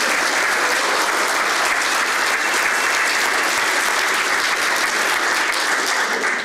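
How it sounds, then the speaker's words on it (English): Loud, dense applause from an audience at a university welcome-back gathering, honoring a former professor named Conrad, a continuous wash of many hands clapping at an even level throughout before fading at the very end. "Conrad's here. Give him a round of applause."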